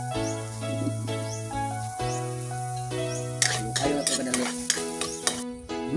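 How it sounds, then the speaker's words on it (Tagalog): Garlic fries in oil in a wok until golden brown, a soft sizzle with light stirring heard under prominent tonal background music. "Kumot na niya golden brown ang atong mga lamas"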